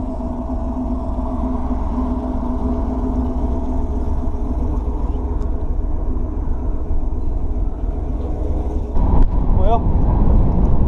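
Bolt-on Camaro running E85 hums steadily on a dyno, a low engine drone held at constant speed before a brief surge near the end, with background shop noise.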